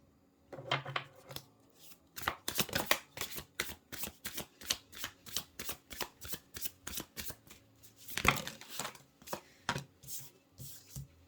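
Tarot cards are shuffled over and over in a rapid, fluttering riffle of crisp card slaps, close and fairly quiet, with short pauses between bursts and no talking.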